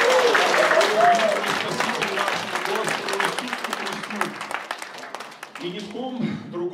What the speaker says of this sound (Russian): Аплодисменты великому Богу!